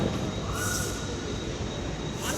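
A local train rolls into platform two of a station with a steady, loud rumble and faint wheel screech, heard close by with no talking.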